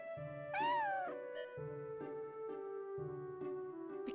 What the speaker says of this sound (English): The cat sounds.